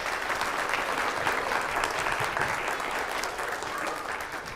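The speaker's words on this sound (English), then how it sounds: "Let's give them another round of applause." Audience at a school board of education meeting claps for student performers, a steady, full round of applause that holds for several seconds and eases slightly at the end.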